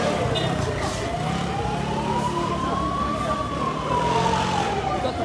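Ambulance siren wailing, rising and falling slowly at a moderate distance, over traffic rumble and background crowd noise.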